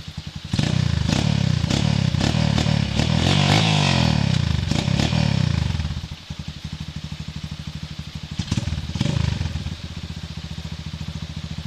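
A motorcycle engine revs hard and loud for several seconds, then drops to a rough, chugging idle with short blips of throttle, close by and with no talking over it.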